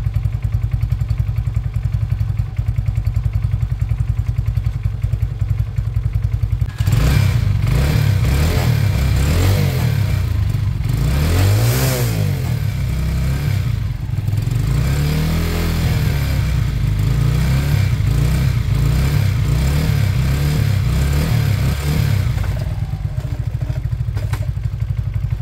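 A small 125cc Chinese cruiser motorcycle engine idles steadily and loudly for the whole stretch, a low rumble with a couple of brief revs in the middle.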